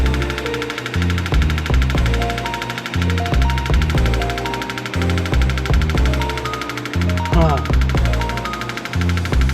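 A 2017 Mercury 90hp Command Thrust outboard boat engine runs loudly throughout, steady and throbbing, with a low rhythmic knock and hum, while people talk over it.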